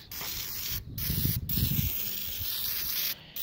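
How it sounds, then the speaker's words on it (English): Engine degreaser sprayed onto a dirtbike engine in a steady, close hissing stream, broken by a few brief pauses, with no talking. "get your engine degreaser and just start spraying the heck out of it"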